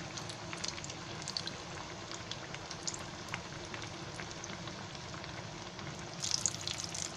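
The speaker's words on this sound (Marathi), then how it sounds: "चांगले गोल्डनचे होईपर्यंत तळायचे मस्तपैकी" Batata vada potato patties deep-frying in hot oil, a steady close crackling sizzle with bubbling that runs throughout, no voices.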